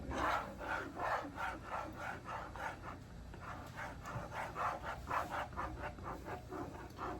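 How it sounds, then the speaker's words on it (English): Grits being stirred in a pot on the stove for a smothered potatoes and eggs breakfast, a steady rhythmic scraping and rubbing repeating about twice a second, close and moderately loud, with no talking. "stir these grits until they nice and done"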